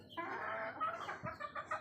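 Native farm chickens clucking close by, a steady run of overlapping clucks and squawks from several birds with no talking.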